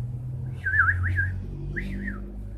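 A singer whistles a few bird-like chirps imitating a bird, two rising and falling warbling phrases, clear and close over a low, steady background hum.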